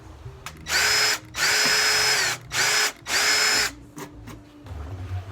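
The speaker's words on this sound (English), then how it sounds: "Starting off with, of course, the drill first to make that starter hole" A Ryobi power drill whirs in four bursts drilling starter holes in wood, each a few seconds long with brief pauses between, close up and loud, winding down after each run.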